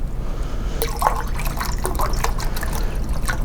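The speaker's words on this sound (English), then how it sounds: "So I will pour some more RO water into the bath." Reverse-osmosis water is poured into the bath of a turnkey rotary evaporator, giving a steady close liquid trickle with dripping and splashing over a constant low hum.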